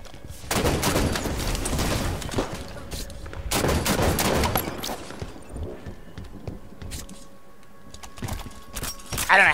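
Rapid gunfire bursts from a Halo multiplayer match, two long sustained volleys followed by scattered shots and clatter, loud and close with no talk over them.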